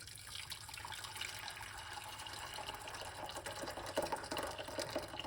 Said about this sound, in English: We put some water in the pot here for my broccoli.